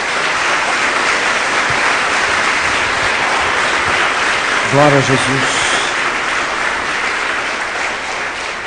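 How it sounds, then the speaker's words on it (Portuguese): A church congregation claps together in sustained, steady applause throughout, with a preacher's voice speaking over it and a brief sung or chanted phrase near the middle. "Dê uma salva de palmas a Jesus."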